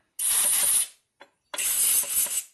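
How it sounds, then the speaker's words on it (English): Compressed air blasts cleaning fluid out of the holes in a Harley twin cam engine case: two loud, close hissing bursts with a tiny puff between, no talk. "you stick inside of every hole, like this, and you blow off from the inside out"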